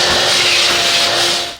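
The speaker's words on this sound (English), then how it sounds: "Let me vacuum this first." A vacuum cleaner cleans the interior of a 2015 Toyota Prius Plug-in with a loud, close, continuous rushing roar that tails off at the very end.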